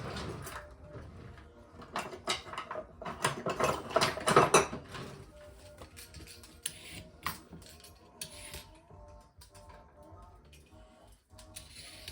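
Carrot scraped with a hand peeler, a run of quick rasping strokes that build and bunch up in the middle, then thin out into scattered lighter scrapes and taps, close and fairly quiet.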